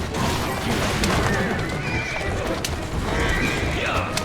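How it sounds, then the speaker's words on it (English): A horse in the video game Assassin's Creed Syndicate whinnies loudly over a dense, busy background of noise, with a second neigh rising near the end. "Who's a good horse?"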